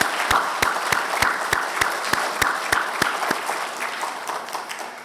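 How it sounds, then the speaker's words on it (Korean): A church congregation at a Sunday service in Jeongeup bursts into warm, sustained applause. Many hands clap steadily together in a reverberant hall, and the applause slowly fades toward the end. "큰 박수로 환영하겠습니다."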